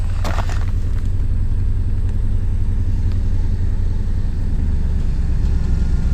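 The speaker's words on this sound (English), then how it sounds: "That's the rattling we're hearing." A DIY car camping trailer towed by a small van rattles steadily over a constant loud road rumble, with a brief sharper clatter near the start and no voices.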